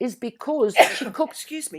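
A single sneeze bursts out mid-conversation, brief and close, surrounded by talking and an apology.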